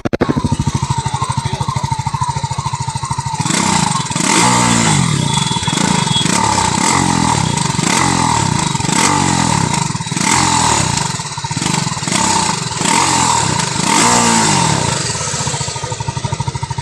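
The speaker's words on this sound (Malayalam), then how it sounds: "അന്നേരം നമുക്ക് ഇതിൻ്റെ എൻജിൻ സൗണ്ട് ഒന്ന് കേട്ട് നോക്കാം" A TVS Apache RTR 310 motorcycle starts with a rough idle, then is revved repeatedly in rhythmic bursts, loud and close, the engine rising and falling several times before settling.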